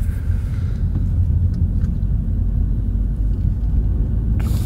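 A car drives out of a town on Mallorca, heard from inside as a steady, heavy low road-and-engine rumble that holds constant throughout, with no voices.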